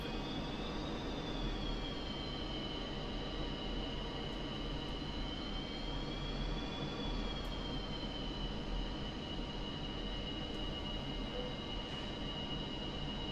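MiG-29 jet engines in the DCS flight simulator spool up with added power during taxi, a steady loud whine and rumble with high tonal lines that rise and fall slightly, continuous throughout.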